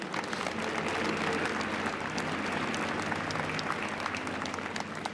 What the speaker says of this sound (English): For all of them, we owe a very special round of applause.